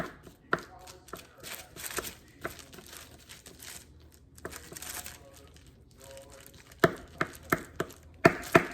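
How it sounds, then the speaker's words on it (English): A knife makes quiet, irregular chops while preparing a strawberry crumble, with a few isolated cuts early on and a quicker cluster of sharp chops near the end. "I'm gonna come back here and I'm gonna chop this"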